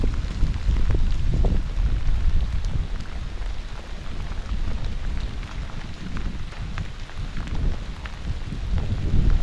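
Heavy thunderstorm rain drums steadily around a forgotten cabin shelter in the woods, a dense loud roar with low rumbling swells of thunder and gusting wind, no voices.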